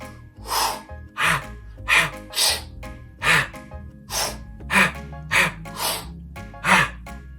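A voice imitates ocean waves by mouth as a beat, with about ten breathy whooshing bursts in a steady rhythm, each swelling and fading, close and fairly loud.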